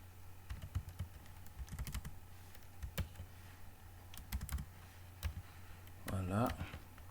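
Keys clacking on a computer keyboard while HTML is typed, heard as irregular clusters of close, crisp taps with pauses, over a steady low hum and some faint talk.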